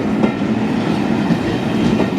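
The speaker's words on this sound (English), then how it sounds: "British Pullman, Belmont train, England, the Belmont train." A model railway British Pullman train runs along the track on a layout, a loud, close, continuous rumble with quick clickety-clack wheel beats and no talking.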